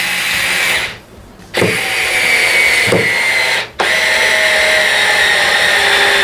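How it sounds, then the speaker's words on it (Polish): Parkside PSF 4.6 A1 cordless screwdriver driving screws, a loud whirring drive run broken by two short pauses before it restarts, close up. "Zaraz zobaczymy, powkręcamy sobie trochę tych wkrętów."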